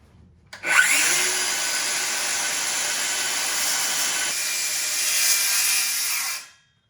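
A power saw cuts through a wooden interior door jamb during trim-out, a loud steady whine running continuously for about six seconds before stopping abruptly.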